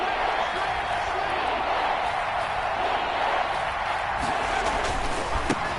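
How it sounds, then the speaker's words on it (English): Broad, steady roar of a stadium crowd in the Madden 21 football video game as fans rise late in a Chiefs versus Texans game, a constant wash of noise with faint whoops on top and no clear talk. "Here comes a big one as this crowd gets up making some noise"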